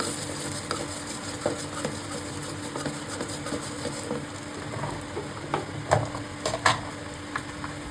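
Garlic and torn dried red chilies frying in hot oil for a dal tadka, a steady sizzle with scattered spoon scrapes and a few louder stirring clicks near the end, no talking.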